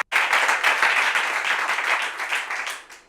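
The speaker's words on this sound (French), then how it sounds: "ça peut déjà s'applaudir avant de connaître son nom" An audience at a Bible quiz show breaks into steady, dense applause, a sustained wash of many hands clapping for about three seconds before tapering off.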